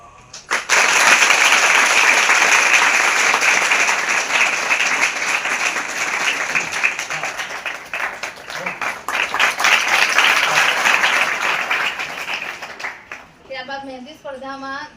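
Sustained loud audience applause at a school prize ceremony, steady clapping from a crowd for about thirteen seconds before fading, with a voice speaking over the tail end.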